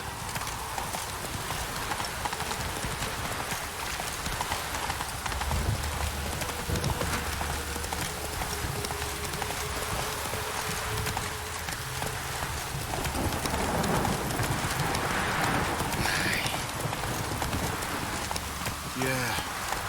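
Horse hooves clip-clop steadily over a constant hiss of rain in The Witcher 3, the ride continuing throughout with a faint voice briefly heard in the background.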